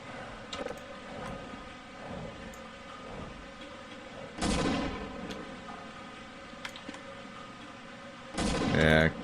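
Video game gunfire in Prisoner of Event, several sharp bursts of shots and blasts scattered across the clip amid game ambience, with a player talking in between.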